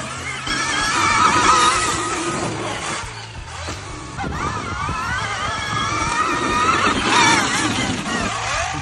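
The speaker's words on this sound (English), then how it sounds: "the gear drive noise" A Surron Storm Bee full-size electric dirt bike, 22.5 kW with gear drive, gives off a loud whining mechanical drone that rises and falls in pitch as it rides past, with no talk over it.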